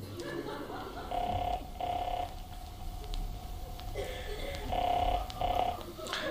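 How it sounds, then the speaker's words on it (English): An old telephone being used to dial the operator, with repeated ringing or tone bursts in pairs over a steady background hum, fairly loud and with no talking. "all you do is dial O"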